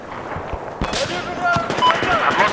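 Battlefield 4 multiplayer gunfire erupts in loud, dense, cracking bursts with a booming low impact near the start, mixed with ongoing battlefield noise.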